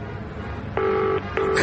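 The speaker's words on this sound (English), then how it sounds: "I thought the phone number hasn't changed since the Morrises were there" A telephone keypad gives two short dialing tones in quick succession, close and clear over a low background hum.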